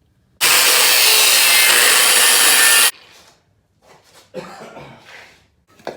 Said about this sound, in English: I'll start kind of shaving the carbon fiber off around it